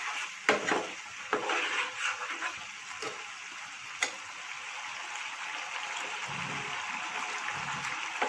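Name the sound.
stirring chicken egg roll filling after adding chaat masala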